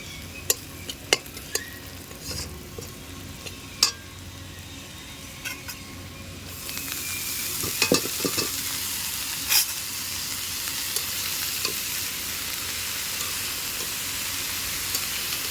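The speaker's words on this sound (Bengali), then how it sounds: "তো চলো আমি এটা ভালো করে একটু ভেজে নিই" Chicken fries in a pan, with sparse clicks and light clatter at first, then a loud, dense, continuous sizzle that swells and holds steady close by.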